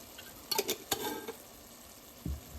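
Softened tomatoes fry in a little oil with turmeric, a faint sizzle broken by a few quick scraping clicks of a spoon against the pan and a soft knock, heard quietly with no talking.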